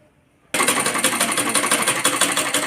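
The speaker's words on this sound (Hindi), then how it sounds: "अब हम इसके साइड की सिलाई करेंगे" A domestic sewing machine stitching the side seam of a kurti starts abruptly and then runs steadily, its fast rhythmic needle chatter close and loud, with no voices over it.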